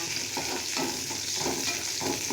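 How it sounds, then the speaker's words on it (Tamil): Onions and curry leaves frying in a pan for a homemade cabbage and potato stir-fry, giving a steady close sizzle with soft rhythmic stirring scrapes and no talking. "வெங்காயம் கருவேப்பிலை எல்லாம் போட்டு வெங்காயம் நல்லா வேகட்டும்."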